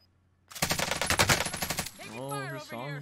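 Rapid automatic gunfire in Call of Duty Cold War, a fast Stoner 63 burst lasting over a second, loud and close, followed by a voice talking.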